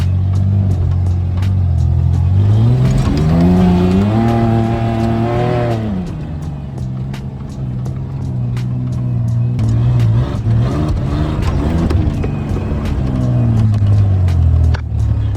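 A truck engine drives and revs hard in snow, close and loud for the whole stretch. Its pitch climbs and falls through several rising surges, and a rapid ticking rattles alongside the engine.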